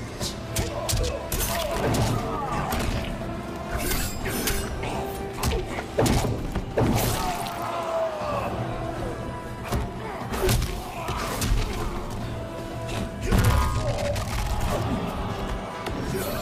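Mortal Kombat 11 match between Scorpion and Baraka: a dense run of punchy thuds, slams and crashing impacts with whooshes over game music, heavy hits clustering around the middle and near the end.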